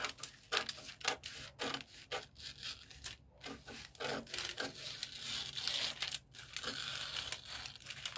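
Scissors cut through a sewing pattern for a long straight milkmaid dress, a quiet run of soft rustling snips and paper crinkles with brief pauses and no talk.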